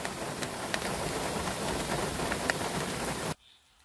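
Steady rain pours down on a rural road in Otter Creek, Florida, a dense continuous hiss with scattered drop impacts that cuts off abruptly near the end, leaving near silence.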